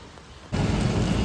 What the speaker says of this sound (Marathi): पाऊस आता सुरूच आहे.